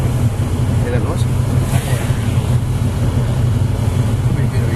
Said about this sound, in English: Probably a bit of exhaust noise on the thing or something